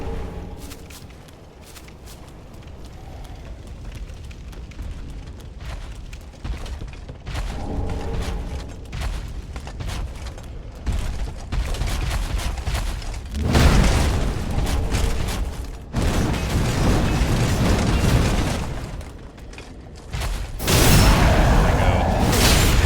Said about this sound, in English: Fire bombs.